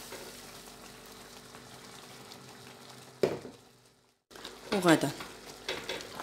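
Lamb shoulder or leg frying in a pot just after oil goes in, a low sizzle that drops nearly silent, then sharp crackling and spattering bursts as the meat is stirred, with a brief voice.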